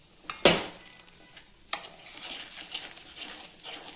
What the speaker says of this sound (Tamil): இந்த கலவையை போட்டு கிளறுங்க.